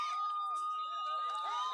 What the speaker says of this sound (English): Crowd getting into it.